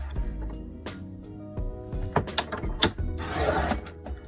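A paper guillotine cutter slices strips of paper for Russian-style bookbinding, with a series of close mechanical clunks, scrapes and rubbing sounds, then a longer rasping slide near the end.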